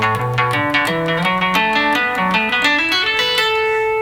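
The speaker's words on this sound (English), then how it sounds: "if I go back to the neck pickup and I play where the string is tight, it sounds like this" An electric guitar on its neck pickup, plucked where the string is tight, plays a rising run of clean, sustained single notes, close and steady with no talking.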